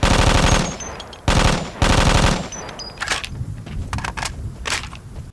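Automatic gunfire at the shooting range in the video game Vietcong: loud, close bursts of rapid shots, two long volleys separated by a short pause, followed by scattered single shots and clinks.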